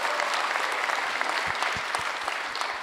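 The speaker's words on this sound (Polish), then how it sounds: "Wielkie brawa." Audience applause at a public meeting in Poland, a steady crowd clapping throughout with scattered louder claps near the front, continuous and fairly close.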